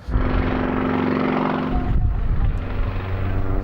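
A propeller aerobatic display aircraft performs at the Jersey airshow, its engine droning loudly and continuously, with the pitch shifting as it manoeuvres overhead.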